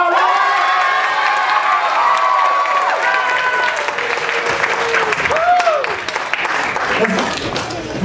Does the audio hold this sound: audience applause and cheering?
yes